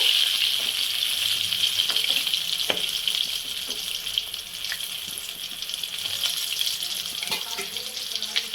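Coated chicken pieces fry in hot oil for a KFC-style crispy fried chicken, giving a steady, bright hiss with occasional small pops and crackles that runs on continuously.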